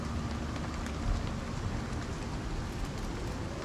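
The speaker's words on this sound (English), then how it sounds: "Apparently started raining" Steady rain falling in the survival video game Icarus, a dense even hiss that fills the whole stretch without pause, with no talking over it.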